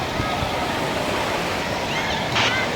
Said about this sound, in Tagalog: kita nyo naman yung hampas ng alon